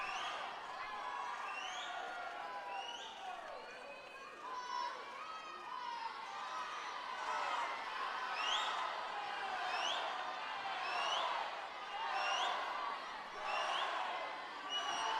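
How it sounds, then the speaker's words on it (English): At a high school swim meet, a crowd cheers the Fishers swimmers, with rising shouts and whoops echoing faintly in an indoor pool hall, sustained throughout. "Fishers cheering on their swimmers."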